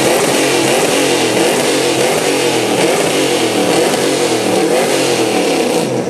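A C10 pickup truck built for drift racing, with more than 400 horsepower, revs hard as it pulls away at a drift event, its engine roaring loud and steady throughout.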